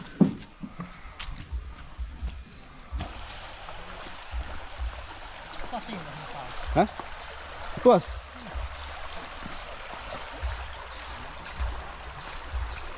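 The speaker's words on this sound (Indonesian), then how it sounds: "Ini Sungai Unai." The Unai river near Long Unai village flows with a constant soft rushing wash, while people talk intermittently nearby and occasional knocks and splashes sound close by.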